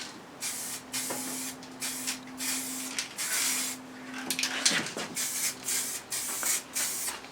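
Plastidip rubber coating sprayed from an aerosol can in a thick coat onto a car part in a garage: close, loud bursts of hissing spray, some long and some short, separated by brief pauses.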